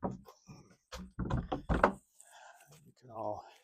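A large garage door panel is shoved aside in a home workshop, giving a few heavy, close thumps and scrapes in quick succession, with a person talking around them.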